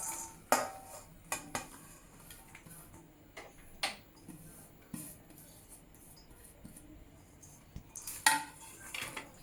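Sprouted mung bean salad vegetables being mixed in a bowl with a spoon, giving scattered clinks and scrapes of cutlery against the dish, close and fairly quiet, with a few sharper knocks spread across the stretch.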